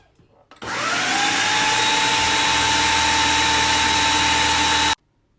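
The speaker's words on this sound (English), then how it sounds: "We're just gonna keep blending it until it becomes puree." A blender pureeing cauliflower for a mash, starting abruptly and running as a loud, steady whirring whine for about four seconds before cutting off sharply, close and alone.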